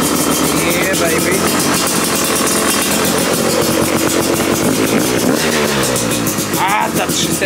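A new 2024 Beta 300 RR two-stroke motorcycle engine runs loud and close just after its first start, a rapid buzzing putter with small revs, while people talk and shout excitedly over it.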